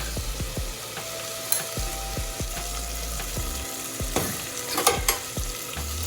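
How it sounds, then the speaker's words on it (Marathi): Spices and vegetables sautéing in hot oil for dal khichdi, a steady close sizzle with a spoon scraping and clinking against the pan several times, no talking. "आणि याला मस्तपैकी छान थोडंसं भाजून घ्या, तेलामध्ये परतून घ्या."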